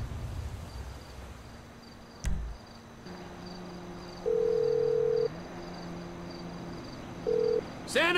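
A phone call being dialed in GTA 5: steady electronic ringback tones with two louder beeps, the first long and the second short, over a low game-engine hum and background ambience, with no talking.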